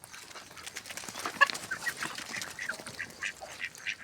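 Busy clucking and chattering of several chickens close by as they eat jaggery, scattered calls overlapping without pause, no talking.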